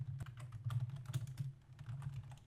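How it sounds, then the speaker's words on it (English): Quick keystrokes on a computer keyboard while writing an HTML doctype, a steady burst of close, light clicks with a low hum underneath and no talking. "and we type it like this"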